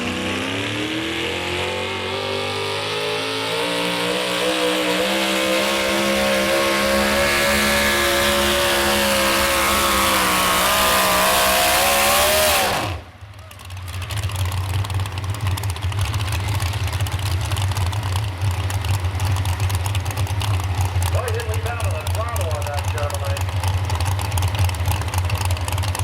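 A Chevrolet pulling truck's engine roars at full power down the track during a sled pull, climbing steadily in pitch for about thirteen seconds before cutting off abruptly, then settling into a loud, steady rumbling idle.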